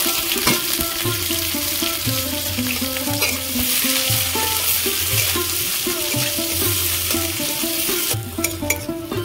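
Onions sizzle steadily in hot oil in a pan while making banana flower chops, with a busy crackle throughout and repeated clinks and scrapes of stirring against the pan, loud and close.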